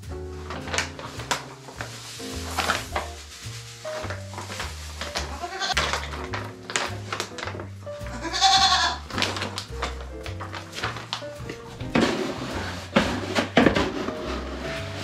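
Goats on a farm bleat repeatedly over a steady musical backing, several calls spread across the clip, fairly close and clear.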